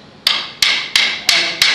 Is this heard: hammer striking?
yes